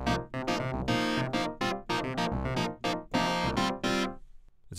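An aggressive, metallic synthesizer patch with filter envelope modulation plays a rhythmic sequence of loud, bright, buzzing stabs and sustained notes with short gaps, alone and up close, then fades at the end.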